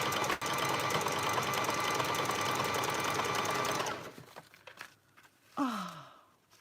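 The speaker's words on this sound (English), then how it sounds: "I'm sewing along there and it's not even catching." A sewing machine stitches woven handspun garment edging in a fast, loud continuous whir for about four seconds, then stops, leaving faint clicks and a short sliding squeak.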